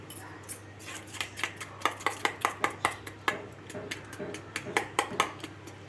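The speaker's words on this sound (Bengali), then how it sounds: "এখন আমি একটা কাঁটার চামচ দিয়ে এইভাবে ফেটিয়ে নেব।" Fork whisked briskly through egg, spices, onion and fish roe in a bowl, giving a steady run of sharp, fairly loud clicking taps against the dish, close up and without speech.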